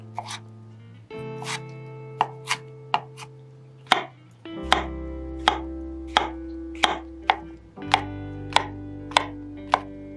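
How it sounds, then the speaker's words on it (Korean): Half an onion, a peeled tomato and mushrooms being chopped into small pieces, heard as a run of crisp, evenly spaced knife strikes on a cutting board, close and clear with no talking. "양파 반개와 껍질을 벗긴 토마토 그리고 버섯은 작은 크기로 써세요."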